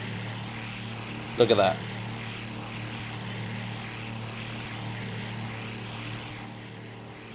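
Steady drone of a powerful piston engine turning a huge five-bladed propeller on a flight-simulator plane, loud and continuous throughout, with a brief spoken remark over it early on.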